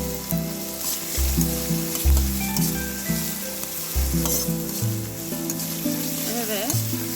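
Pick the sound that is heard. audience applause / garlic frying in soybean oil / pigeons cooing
garlic frying in soybean oil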